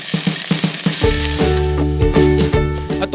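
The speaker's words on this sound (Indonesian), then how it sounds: "Nek Uis, lanjut lagi dengan menumis hasil parutan kelapa dengan bumbu ulek buatan si Elin." Grated coconut sautés with a ground spice paste for Kebumen-style urap. A loud, close sizzle comes with rhythmic scraping strokes, and a steady tonal hum joins partway through.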